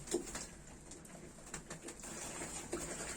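Young pigeons, not yet fully fledged, coo softly and intermittently in a quiet enclosure, with faint rustling and low background hum.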